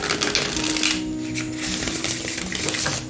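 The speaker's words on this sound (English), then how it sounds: "let me just kind of show you how it shuffles" A tarot card deck being shuffled by hand, a dense riffling, flapping patter of cards that runs close and loud the whole time with no talk.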